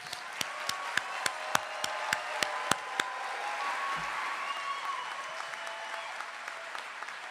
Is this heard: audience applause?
yes